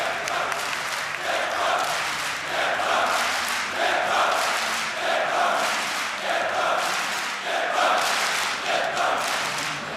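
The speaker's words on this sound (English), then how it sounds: "The home crowd is going nuts right now." A home crowd roars and cheers at a Counter-Strike esports grand final on Overpass at DreamHack Winter 2014, a loud, sustained din with rhythmic swells like chanting running throughout.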